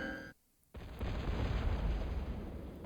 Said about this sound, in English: Miserable artillery duels.